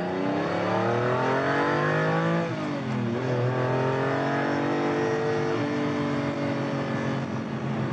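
A Lamborghini 25th anniversary special edition, a powerful evolved version of the original model, roars steadily from inside the cabin, engine pitch climbing through gears with audible shifts, loud and continuous.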